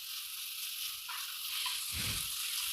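Garlic cooking in ghee in a pan, a steady, close hiss of sizzling that swells briefly as more goes in, with no voices.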